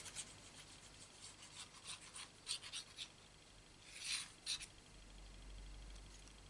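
A pen writing a message on a card piece for a handmade birthday card, quiet close scratchy strokes in short bursts with brief pauses, alone without talk.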